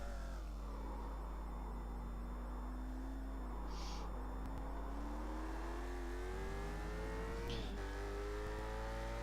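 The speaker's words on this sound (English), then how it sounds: "this is the view from the gearbox of Marek's car, and you see he's leaving Heinrich far behind" A race car engine in a racing video game league race holds a steady, rising whine as it accelerates through gears, heard from onboard at a constant loud level with no voices.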